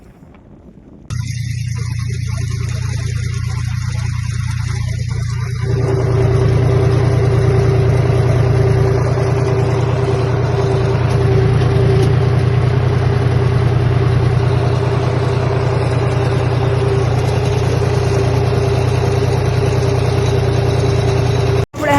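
A tractor engine idles loudly and steadily at night with a low, constant rumble throughout, growing slightly louder after a few seconds, with no talking.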